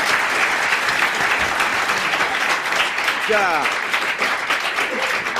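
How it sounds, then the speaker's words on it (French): Studio audience at a French radio-TV game show applauds a winning contestant, dense sustained clapping filling the whole span with a brief word spoken over it. "On l'applaudit."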